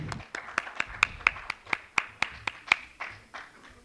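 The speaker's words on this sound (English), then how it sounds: "Everyone, a big round of applause for them." Audience applause for conference panelists at a financial industry summit, a sparse run of about fourteen separate, fairly close claps spaced roughly evenly over four seconds, moderately loud with no talking.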